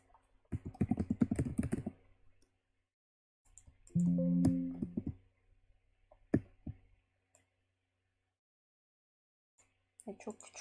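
Computer keyboard keys clatter in short bursts of rapid clicking, separated by pauses and a few isolated taps. A voice briefly talks in between, all fairly quiet and close.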